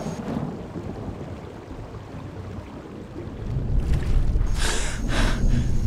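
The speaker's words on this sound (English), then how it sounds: "In the water in a thunderstorm, this is really bad." Thunderstorm and rain in the game Skyrim, heard while out on the water: a steady rain hiss with low rumbling, swelling into a heavier, louder wash and crashing roll of thunder in the second half.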